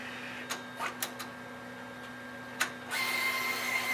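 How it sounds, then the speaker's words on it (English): A PrismJET VJ24 wide-format printer crosscuts the printed media: a few short clicks and mechanical ticks, then a steady whirring cutter run with a faint high whine, close and fairly quiet with no talk. "the printer will cut off the media that we've printed"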